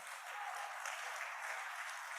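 An audience applauds steadily in a hall, a dense, even patter of many hands that stays level and fairly faint throughout, with no voices over it.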